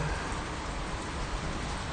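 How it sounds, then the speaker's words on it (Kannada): Steady rain falls at night in R Nagar, a continuous dense hiss of drops close by with no voices over it. "ಮಳೆ ಬರ್ತಾ ಇದೆ ಆರ್ ನಗರದಲ್ಲಿ"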